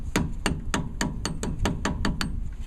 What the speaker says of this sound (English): the pinion flange just gets tapped back on lightly to position it